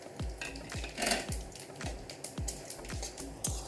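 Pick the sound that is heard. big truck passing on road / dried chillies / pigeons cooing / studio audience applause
dried chillies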